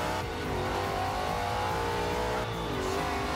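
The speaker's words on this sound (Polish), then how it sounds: "Zmienił się także dźwięk samochodu, jest taki bardziej trochę podkręcony" Ford GT500 in Forza Horizon 2 with a tuned engine revving hard in a continuous loud, rising drone, close and alone.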